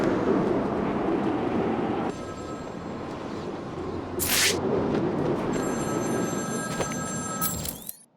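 A telephone rings in the Batman Arkham City video game, with a bright repeating trill over a dense, rumbling background. A sharp burst lands midway, and the sound cuts off abruptly at the end.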